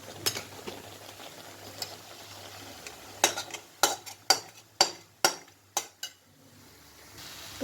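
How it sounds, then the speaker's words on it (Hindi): Thickened khoa being stirred into carrot halwa as it cooks, a run of sharp, regular clanks and scrapes of a spoon against the pot, close and distinct, with no speech. "अब इस खोआ को हम दूसरी तरफ जो गाजर का हलवा पक रहा है उसमें अच्छे से मिलाएंगे।"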